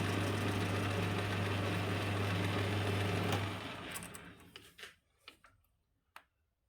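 Lathe milling a metal part, a steady mechanical whir with a low hum running for a few seconds, then spinning down and fading into a few faint clicks and taps.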